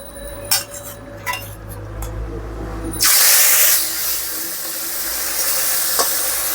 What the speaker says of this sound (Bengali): তো মাছের ভাজা সরাই দেওয়া যাক।